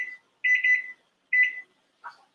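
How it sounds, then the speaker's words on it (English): A kitchen timer alarm beeps in three short bursts, two longer trilling ones followed by a brief chirp, clear and close with no talking. "Kitchen timer."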